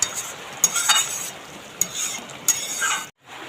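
A hot tempering poured into a pot of cooking rice-and-lentil khichuri, giving a hissing sizzle with sharp clinks of a spoon against the vessel, then a brief drop to near silence at the end.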